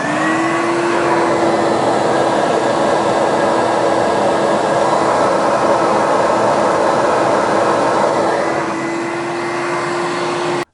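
A Bissell Big Green Machine carpet cleaner runs continuously, a loud steady motor whine with a constant hum that drops slightly near the end.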